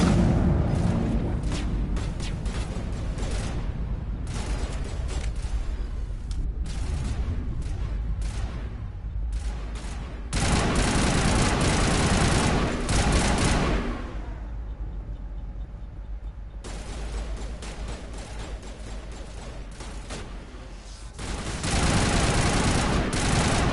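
Gunfire in the Mass Effect video game, with dense bursts of rapid shots and booming blasts running loud through most of the stretch and only brief lulls between volleys.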